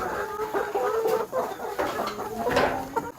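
A large flock of about two hundred chickens clucks and chatters in a crowded coop, a close, steady babble of overlapping clucks with sharper squawks rising now and then.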